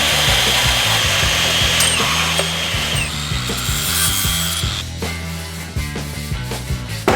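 A saw cuts a quarter inch off fuel line parts for a Land Rover Defender, heard as a steady loud rasping cut that turns into choppy, uneven strokes and clatter toward the end.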